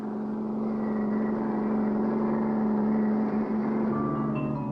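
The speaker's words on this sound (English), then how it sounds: "It's an armored car. It's headed right for the bank." An armored car drives along with a steady, droning engine hum, a constant mid-level tone, loud and unbroken, from a vintage cartoon soundtrack with no voices over it.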